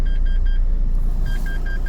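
Renault Espace IV with one front wheel removed, shaking on its mounts: a loud low rumble of the running car inside the cabin, with a repeating electronic warning chime beeping in bursts over it.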